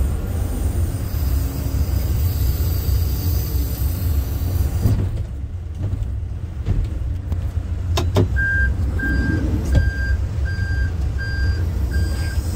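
A John Deere 310SL backhoe loader's diesel engine rumbles steadily as the front bucket dumps, with a brief lull in the engine noise midway, a few clanks, and then a run of evenly spaced reversing beeps as the machine backs up.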